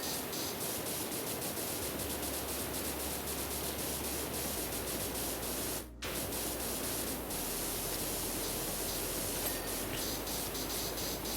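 Pressure washer spraying a wooden post at a woodland house in Power Wash Simulator, a steady loud hissing jet of water with one brief cutoff midway before resuming.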